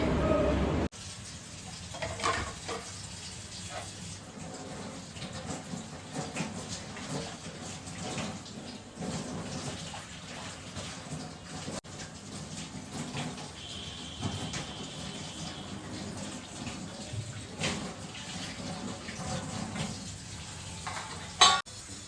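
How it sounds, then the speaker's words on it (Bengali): Steady running tap water while dishes are washed at a kitchen sink, a continuous faint splashing hiss with occasional clinks and scrapes, no talk. "এখন বাসনগুলো মাজতে হবে"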